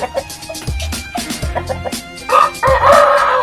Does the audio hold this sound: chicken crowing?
yes